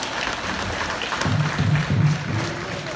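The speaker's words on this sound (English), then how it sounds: "let's give these guys all a round of applause" A school audience claps through a round of applause at an attendance recognition event, a broad crowd patter with a few low voices rising briefly in the middle.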